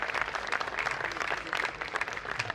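An audience at a live comic poetry gathering in Faridabad applauds a poet, a dense, continuous wash of many hands clapping with no voices.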